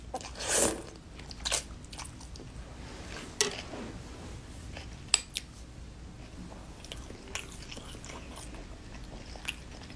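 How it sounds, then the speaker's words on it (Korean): Someone eating vegetables makes crunchy bites and chewing close to the microphone, with a few sharp crunches early on followed by quieter, scattered chewing sounds. "我吃饭不吧唧嘴，但是还是会有声音的。"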